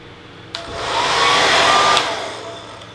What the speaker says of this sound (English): before diffusing, I'm using just a Remington, I think, just blow dryer.